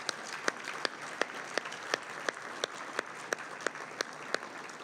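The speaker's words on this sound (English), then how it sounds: "Let's give both of these gentlemen a big round of applause" A modest audience at a chamber of commerce dignitary discussion applauds two speakers, a light spread of clapping with a few loud, regular claps close by ringing out above the rest.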